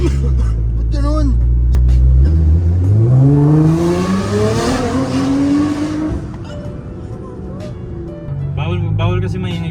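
A Nissan GT-R engine revs hard nearby, climbing steeply in pitch for several seconds before dropping back to a rumbling idle, with people talking around it at the start and end.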